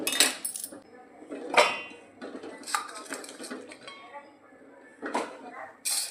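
A mixer jar clinks and clatters against metal and other dishes in a few sharp knocks, with someone talking nearby.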